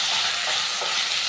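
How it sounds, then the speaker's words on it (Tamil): Chopped eggplant is stirred into onions frying in a pan for a fish curry, a loud close sizzle with the scrape of stirring running through the short moment, no speech. "கத்திரிக்காயை வந்து நம்ம சேர்த்து நல்லா கிளறி விட்டுக்கலாம்"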